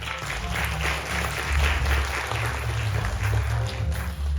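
Audience at a national competitiveness conference applauding ambassadors, a steady sustained round of clapping with a low hum underneath throughout.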